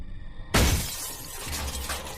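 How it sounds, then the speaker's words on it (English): A concrete block smashes through the glass door of a house in one sudden loud crash, followed by a spray of tinkling shards and debris settling for a second or two. "someone hurled a concrete block through the glass door of her home"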